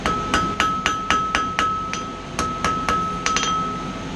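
Sharp, ringing hammer blows from the ball of a hammer strike a metal bar in a steady rhythm, about a dozen hits with a short pause midway, close and clear.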